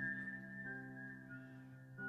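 Soft, steady whistling at a single held pitch, fairly quiet and continuous inside a house, with no talking.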